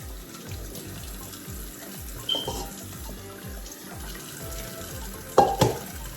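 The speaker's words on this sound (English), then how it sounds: "I just give it a quick rinse. This is still a little frozen. So I'm just gonna go ahead and rinse it up." Tap water runs into a kitchen sink over partly frozen chicken being rinsed, a steady close splash with occasional louder sloshes and thuds as the meat is handled, no talk.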